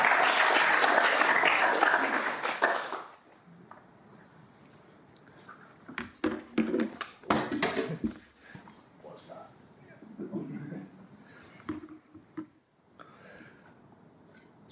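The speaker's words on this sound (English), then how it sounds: "Give him a round of applause." An audience at a high-level academic conference applauds a speaker, with dense clapping for about three seconds that stops abruptly, followed by quieter room sounds, shuffling and the speaker beginning to talk.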